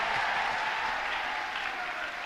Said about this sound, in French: Si tu veux acclamer, acclame.